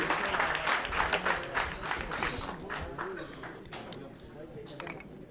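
Steady applause from a crowd at an oyster-opening competition in Charente-Maritime, a dense patter of many hands clapping that gradually thins out, with some background chatter mixed in.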